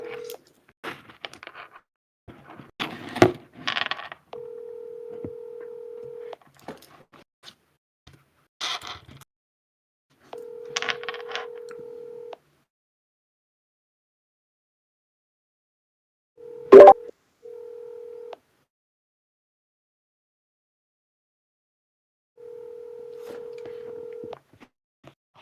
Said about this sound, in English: Calling now. I'm gonna put this on speaker.